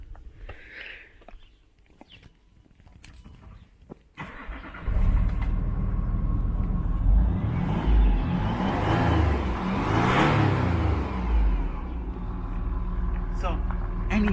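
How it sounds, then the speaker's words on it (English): A Land Rover Discovery 3 engine cranks and fires on a cold day, settling into a loud, steady idle rumble nearby, with people talking before the start. "Let's start it up and have a look."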